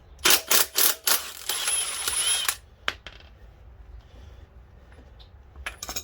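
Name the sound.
wrench turning 27 mm nut on Kawasaki Concours rear wheel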